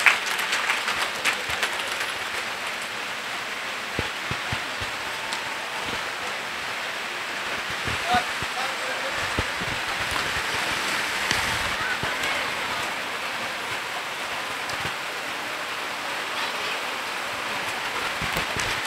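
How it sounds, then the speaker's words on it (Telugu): An audience at a silver jubilee dance celebration applauds a classical dance guru, dense continuous clapping filling the room evenly throughout with a few sharper claps standing out. "సో మరొకసారి ఎవరిబడి క్లాప్ దెమ్ ప్లీజ్."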